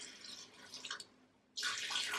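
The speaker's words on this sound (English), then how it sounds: "You can add equal parts water" Water pours into a blender holding dark sweet cherries, a steady close splashing stream that pauses briefly and then resumes more strongly, with no talking.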